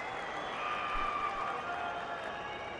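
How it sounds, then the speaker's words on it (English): A cricket stadium crowd at a Pakistan vs England Test match in Pakistan cheers and applauds a boundary, a steady distant roar of massed voices and clapping without a break. "Noticed whenever Babar hits a 4, there's just a little bit more noise from the crowd than the other Pakistan players"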